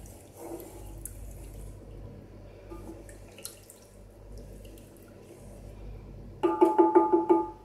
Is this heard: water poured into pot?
yes